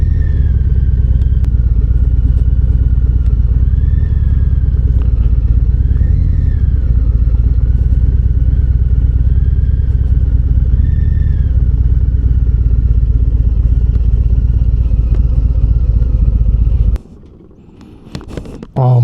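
A 2025 Harley-Davidson Fat Boy rumbles steadily while being ridden, a loud, close, deep engine drone with slight rises in pitch. It cuts out abruptly near the end, followed by wind and handling noise.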